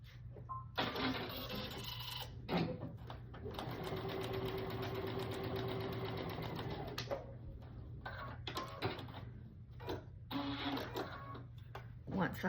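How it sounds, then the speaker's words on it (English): Domestic sewing machine stitching fabric pieces with a quarter-inch seam, several loud whirring bursts of rapid needle chatter separated by pauses, a short burst first and then a long sustained run, with steady background hum. "I'll sew it to L1, right like that, 1/4 inch seam right here"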